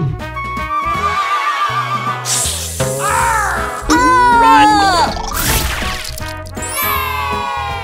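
A zebra at a cartoon zoo brays and whinnies in several loud, close horse-like calls, mixed with background music and sound effects.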